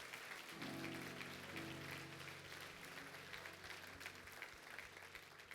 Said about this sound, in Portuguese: Você pode dar um aplauso por esse ministério?